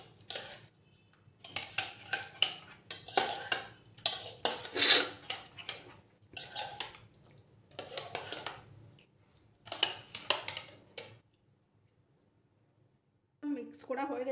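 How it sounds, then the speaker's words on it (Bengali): Egg batter being stirred with chili flakes and salt in a bowl, heard as rapid clinking and scraping of a utensil against the bowl in repeated bursts, with a short pause near the end before the clatter resumes. "নুন দিয়ে এটাকে ভালো করে মিক্স করে নেব।"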